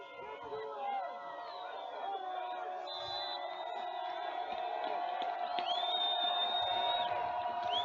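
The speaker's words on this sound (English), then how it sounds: "Crowd comes to its feet here." A college football stadium crowd rises and cheers on a fourth down, whoops and shouts over a broad roar that swells and grows louder toward the end, with a voice talking over it.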